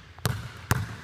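Basketball bouncing twice off a rim or backboard during a shooting drill, two sharp separate thuds about half a second apart, moderately close, with no talk.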